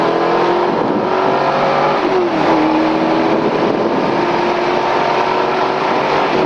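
An LS1-swapped BMW E30 race car accelerates hard on track, its V8 engine roaring loud and close from the cabin, pitch climbing steadily with a brief shift dip.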